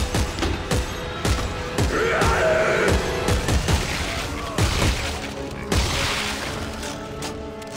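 Gunshots in Dead Space 3, a run of sharp, loud blasts fired in quick succession with booming impacts and crashes among dense game sound effects.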